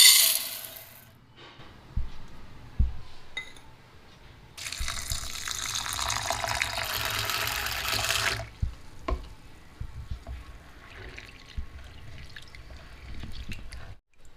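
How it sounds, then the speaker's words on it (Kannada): Toor dal being rinsed in water, washed twice: a loud rush of running tap water in the middle, with splashing, sloshing and small knocks before and after, and no talking. "ತೊಗರಿ ಬೇಳೆನ ಎರಡು ಸಲ ತೊಳ್ಕೊಂಬಿಡೋಣಂತೆ"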